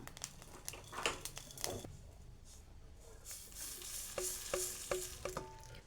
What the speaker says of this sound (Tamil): நல்லா எப்படி வெடிக்குதுன்னு பார்த்தீங்களா இந்த மாதிரி பொறிஞ்சு வரும்